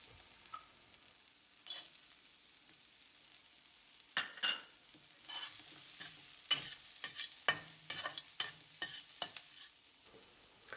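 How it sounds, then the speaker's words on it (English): Green beans stir-fried for nasi goreng, with dried shrimp and chili already in the pan: a faint steady sizzle broken by sharp, irregular scraping and clattering strokes of the spatula, growing busier toward the end. "Stir till lightly colored, then add the green beans."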